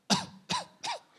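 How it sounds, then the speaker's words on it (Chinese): Three short, close throat-clearing coughs, one after another in even succession, used as a singing-technique demonstration, alone with no talk. "我会用一个咳嗽的方式"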